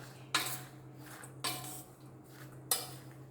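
A spoon clinks three times against a bowl or dish, separate sharp metallic taps with quiet gaps, as rock salt and plain salt are stirred together for spicy masala papad.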